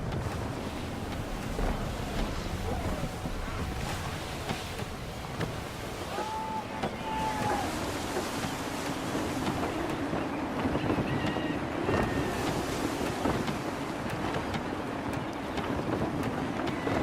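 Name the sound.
gusty wind at sea, from the video game Assassin's Creed 3 Remastered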